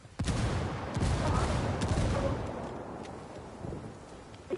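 Frag grenade blast in Apex Legends, a heavy booming burst that rolls into a long rumbling decay lasting several seconds, loud and close, with no talk over it.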